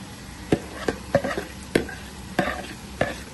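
Battered chicken fries and is stirred in a pan, giving a soft sizzle broken by about seven sharp scraping or clacking strokes at an irregular pace, close and fairly quiet, with no voices.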